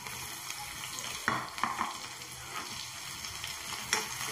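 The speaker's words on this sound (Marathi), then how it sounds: "यात मी कांदा टाकणार आहे" Chopped onion frying in hot oil with cumin and mustard seeds in a kadhai, a quiet steady sizzle broken by a few scraping stirs, close and without speech.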